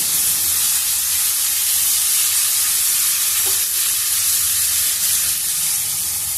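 Chopped spinach dropped into hot oil with fried potato and onion pieces for a palak aloo curry, giving a loud, steady sizzle and hiss that runs throughout with faint stirring.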